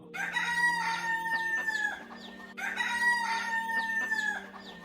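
A rooster crows twice in close succession, each long cock-a-doodle-doo loud and near with strong clear harmonics, a short pause between the two calls and no voices.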